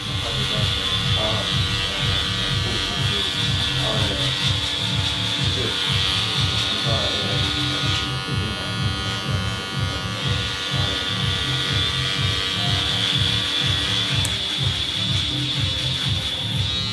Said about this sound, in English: my clipper going